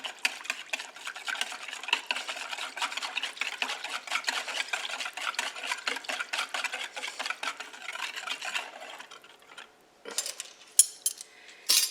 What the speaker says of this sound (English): And so now I'm just going to mix this up.